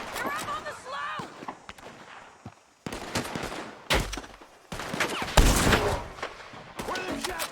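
Bursts of gunfire in a shootout with bounty hunters in Red Dead Redemption 2, with sharp shots and heavy booms that come in irregular volleys. Voices shout and speak between the blasts.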